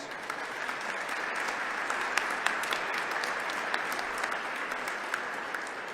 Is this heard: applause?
yes